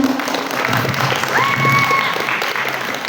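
School students and audience clapping at an inter-school junior high debate in Makassar, steady broadband applause filling the full stretch at moderate loudness, with a brief whistle-like tone partway through.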